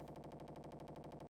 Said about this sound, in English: I thought my PC's crashing, but it was the sound of the cannons.